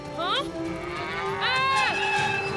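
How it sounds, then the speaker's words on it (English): Cartoon cows low on railway tracks, two long drawn-out moos one after the other, loud and close, over a steady hum of background music. "Looks like somebody left the gate open, and the cows wandered onto the tracks."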